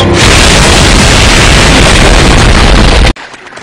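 A cartoon bomb pie in a SpongeBob scene explodes in one loud, sustained roaring blast lasting about three seconds, then cuts off abruptly to quiet.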